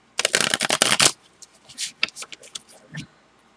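Tarot cards are shuffled in a quick, dense riffle of crisp snaps lasting about a second, followed by several softer, scattered card taps and slides as the deck settles, close and fairly loud.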